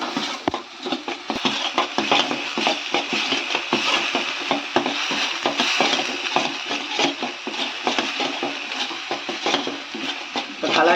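Onions sautéing in a pan for a soya chunks gravy, with a steady sizzle and frequent scraping, clinking stirs of a utensil against the pan, close and continuous.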